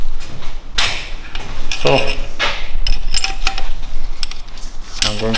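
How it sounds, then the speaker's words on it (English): Metal clicks and clinks from a wrench tightening a nut to 70 Nm on a BMW N47 diesel engine during balance shaft installation, several close sharp taps and ratchet-like bursts, with brief speech. "I'm going to tighten up this nut to 70 Newton meters."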